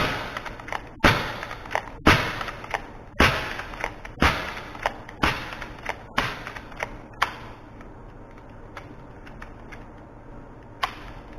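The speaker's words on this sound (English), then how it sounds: "First pellet loaded. I'm just going to do blind fire." Crosman 2240 air pistol fed from a high-pressure air pack charged to 2000 psi, firing pellets in about seven sharp, evenly spaced cracks roughly a second apart, the later shots fainter as pressure drops, then a quieter mechanical tail.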